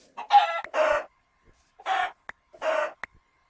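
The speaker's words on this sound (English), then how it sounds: "Probably should kill the chicken." Video game chicken giving several loud, close clucking calls in separate bursts with short sharp clicks between them, clear against silence.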